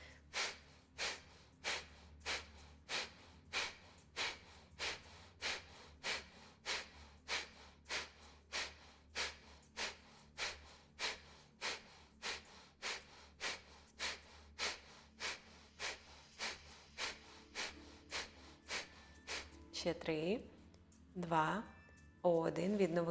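Rhythmic yoga breathing with forceful, emphasized exhalations, a steady train of sharp puffs roughly every second for about twenty seconds, close and clear, then a few slower, softer breaths at the end.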